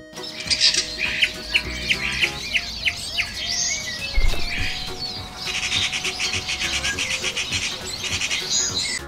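Birds chirping and singing, bright repeated tweets and whistled phrases in quick rhythm, fairly loud and close, with a soft musical backing underneath.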